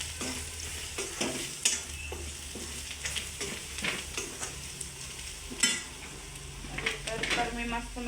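A spoon stirs methi bhaji (fenugreek greens) frying in a pan with salt, bringing scraping clinks of metal against the pan over a steady sizzle, close and fairly quiet, with irregular stirring strokes.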